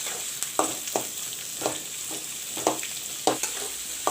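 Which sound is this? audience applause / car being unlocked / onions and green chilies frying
onions and green chilies frying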